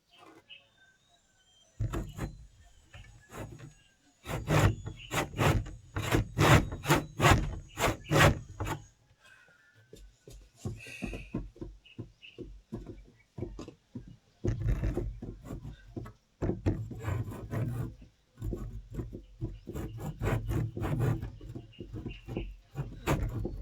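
Rhythmic rasping strokes of a hand saw cutting through wood, coming in bursts with short pauses, close by and fairly loud.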